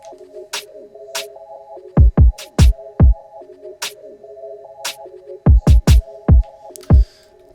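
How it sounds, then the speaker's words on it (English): UK drill drum pattern programmed in FL Studio: deep sliding kicks in quick bursts, sharp snare hits and skittering hi-hats over a looping melodic figure. Playback is clear and close, with no voices. "the drums really have to be typical for a drill beat"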